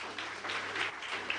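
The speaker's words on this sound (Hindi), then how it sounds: "सिट डाउन, तालियां बजाओ इसके लिए।" A classroom audience at an educational motivational talk claps for a student, a brief burst of steady, moderately loud applause.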